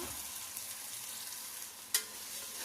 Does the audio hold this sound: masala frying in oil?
yes